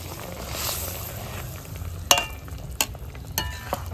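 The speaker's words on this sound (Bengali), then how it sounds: "জল ফুটে গেছে, এখন আমি বড়াগুলা দিয়ে দিচ্ছি।" Fried lentil fritters drop into boiling water in a pot of cauliflower curry, bubbling and simmering. A few sharp clinks from a spoon against the pot sound over the soft, steady bubbling.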